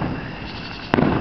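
Colony fireworks display on July 3 with a steady distant crackle and rumble, then a single loud sharp burst near the end.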